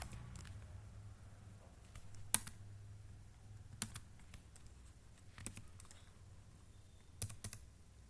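Faint, sparse keystrokes on a computer keyboard while entering an item in Tally Prime accounting software, a few scattered clicks over a low background hum.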